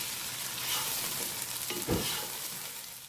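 Just over half a kilo of chicken fries in a pot for a Sikandari pulao, giving a steady close sizzle with a brief scraping stir near the end, no talk.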